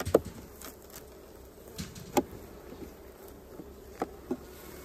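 Honeybees drone around an open hive while a frame is handled, a steady low buzz with a few sharp knocks and taps scattered through it. No one talks.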